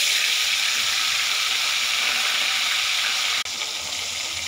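Fish heads fry in hot oil in a wok, a loud, continuous broadband sizzle that stays close and constant, with one brief dip near the end.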